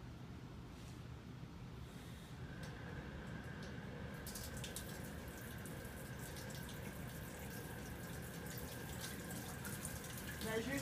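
Water flowing over an overshot weir in a laboratory channel, a steady faint rushing and gurgling stream that continues without pause, with a thin tone joining partway through.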